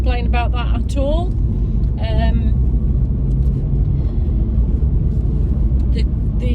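VW Golf R on a road test drive rumbles steadily from inside the cabin, a loud low engine and road drone, while someone talks over it during the first couple of seconds.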